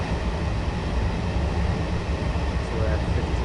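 Train slowing on the Northeast Corridor in Train Simulator, a steady low rumble of wheels and rolling stock, close and continuous, with someone talking over it.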